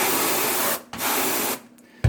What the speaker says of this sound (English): So I spray it off and let it in and out.